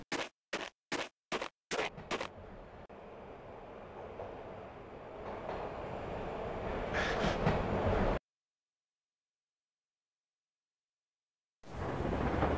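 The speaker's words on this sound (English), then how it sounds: "This was my second train ride of the night." A moving train in the Max Payne video game rumbles steadily, building louder over several seconds, after a few sharp opening thuds, then drops into silence before the rumble returns.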